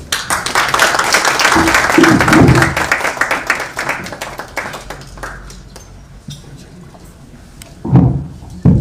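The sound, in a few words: audience applause for speaker Ndindi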